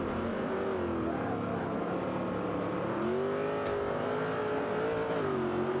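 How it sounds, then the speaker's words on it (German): Big American muscle car engines roar in Forza Motorsport 5, a loud continuous drone with rising and falling revs as the racing cars accelerate, with no talk over it. "das sind halt richtig große amerikanische Schlitten"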